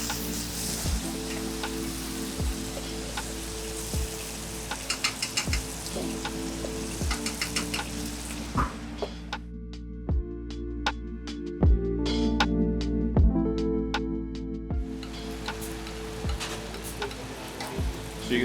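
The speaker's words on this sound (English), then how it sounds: "So you can see that lovely hot foaming butter. Just getting that skin darkened a little bit more." Hake fillet frying skin-side in a hot pan of foaming butter with lemon juice, a steady close sizzle with crackling spits and regular sharp ticks of a utensil tapping the pan, no talk.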